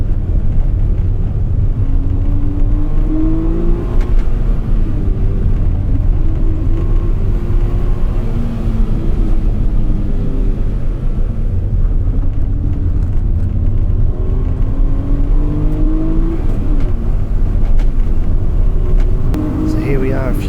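A kei car driving laps on a wet race track in Japan, a steady loud engine drone heard from inside the car with shifting pitch as it accelerates and lifts through corners, a person talking over it.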